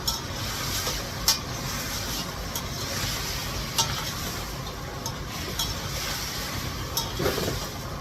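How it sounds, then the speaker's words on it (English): Chicken stir-fries in a pan, sizzling steadily and fairly quietly, with occasional sharp clinks and scrapes of a utensil stirring against the pan and no voices. "I always stir fry my chicken."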